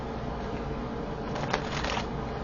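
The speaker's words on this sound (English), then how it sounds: "I'll pull one card here from the Moonology deck" A single card drawn from a Moonology oracle deck, a brief soft papery slide and flick rising near the middle of an otherwise quiet, hissy stretch with no voices.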